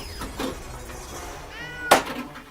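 On an Alien-themed pinball table, a cat meows in short electronic bursts amid faint game noise, with one louder, sharper meow near the end.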